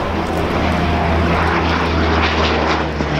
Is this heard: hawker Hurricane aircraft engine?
yes